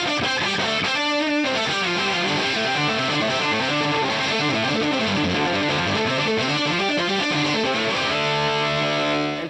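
Electric guitar played through a fuzz pedal an octave higher, a loud, thick, saturated line of steady sustained notes filling the whole passage with no pauses, ending in a brief cutoff.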